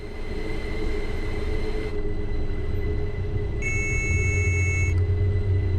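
A train running on the Bernina line in Train Sim World, with a steady low rumble and a constant whine. A higher electronic tone joins near the end.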